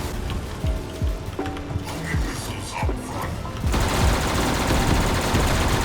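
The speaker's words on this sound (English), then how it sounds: "I'm shooting him with my pistol." In a Black Ops Zombies match in the rain, pistol shots sound as sharp repeated cracks over a steady patter of rain. Players talk throughout.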